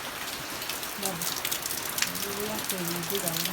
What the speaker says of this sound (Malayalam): അപ്പം നല്ല മഴ.